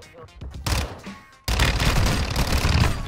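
Gunfire in the Warzone 2 video game, with a loud, dense burst of rapid shots and rumbling battle noise after a quieter stretch of scattered pops.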